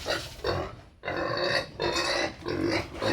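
Several loud, harsh pig grunts and squeals in quick bursts, close by, with brief pauses between them.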